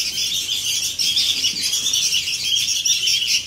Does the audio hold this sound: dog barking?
no